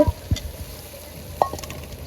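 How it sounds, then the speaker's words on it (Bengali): Chopped tomatoes tipped into sautéed spices for a prawn bhuna, giving a steady low sizzle with a few soft thumps and a stir or clink, moderately loud and with no talk. "মশলাগুলো খুব সুন্দর মতো কষানো হয়েছে এখন কেটে রাখা টমেটোগুলো দিয়ে দিব"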